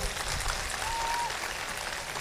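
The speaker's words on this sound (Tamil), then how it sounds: "இது வரைக்கும் பர்ஃபார்ம் பண்ண அத்தனை குழந்தைகளுக்கும் சேர்த்து ஒரு பலத்த கைத்தட்டல் எல்லாரும் கொடுங்க பாப்போம்" A large audience claps steadily for children who have performed on stage, a dense, even wash of applause that holds at full strength throughout with no voices standing out.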